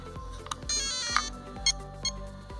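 A vintage Team Associated B3 RC buggy's ESC gives a short series of electronic startup beeps and tones when switched on, close and clear.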